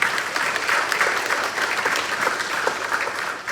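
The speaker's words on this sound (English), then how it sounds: "applause" An audience at a panel discussion applauds, steady dense clapping from a sizeable crowd lasting a few seconds and tapering slightly at the end.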